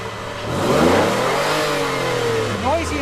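Car engine of a Cirrus, compared against a 1995 Honda Accord, revving hard past 5,000 RPM, its note rising and sweeping in pitch as it accelerates, loud and sustained for about three seconds, sounding rough and strained.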